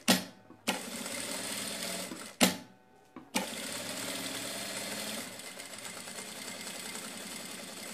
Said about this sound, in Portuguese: E uma costurinha de um pezinho de máquina.